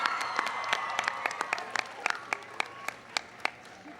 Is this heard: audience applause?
yes